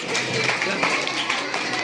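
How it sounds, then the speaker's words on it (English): An audience claps at a school Independence Day roleplay event, a brief, steady wash of many hands close by. "Claps, claps, claps."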